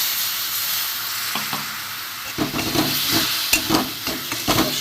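Spices with Kashmiri red chilli powder sizzle hard in a hot pan, a steady loud hiss that swells and crackles more sharply about halfway through, with no voices.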